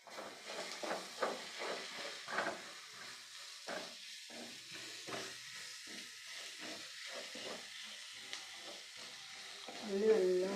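Onions sautéing in a pan for a homestyle squid curry, a low hissing sizzle with repeated scraping stirs in an uneven rhythm, close and fairly soft, no voices.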